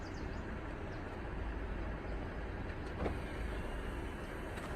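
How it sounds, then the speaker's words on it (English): Distant train rumbling and echoing through a canyon gorge near a large bridge, a steady low broadband roar filling the whole stretch with no talking. "Yeah, a train is coming."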